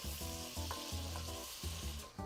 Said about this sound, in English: We're gonna let this cook until the garlic and the shallot get sort of translucent.